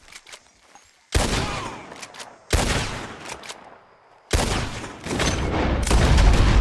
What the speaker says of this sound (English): Fire on him!